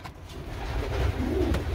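Racing pigeons coo softly in a loft, a low, murmuring call repeating steadily over a faint background rumble, close but quiet.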